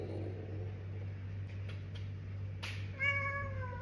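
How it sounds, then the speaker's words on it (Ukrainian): A pet cat gives one clear, fairly loud meow near the end, after a quiet room hum and a few faint rustles. "Это котики"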